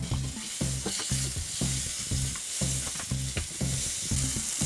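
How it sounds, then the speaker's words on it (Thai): Pork, garlic and mushrooms stir-fried in a hot pan, a steady sizzle broken by a regular rhythm of spatula scrapes and tosses, about two strokes per second, loud and close with no talking. "ผัดหมูให้สุกนะครับ"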